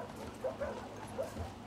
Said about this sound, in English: Ah, there's a dog.